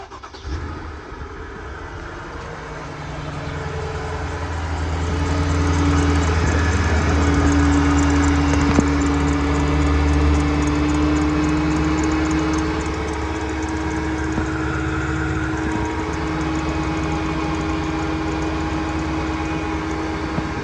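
A 2007 Mercedes S550 with the M273 engine idling with a worn timing chain tensioner, giving a steady mechanical hum with a faint rattle and a tonal drone that rises a little after the first few seconds.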